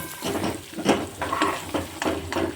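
Onions frying for paneer bhurji are stirred in a pan with a spoon, soft sizzling under repeated scraping strokes at a steady, unhurried rhythm, close by and without speech.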